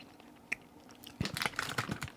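Crunchy chocolate mint candy with a waxy chocolate coating is bitten and chewed close up, a sharp single crack followed by a dense run of crunching bites, fairly quiet with no talking.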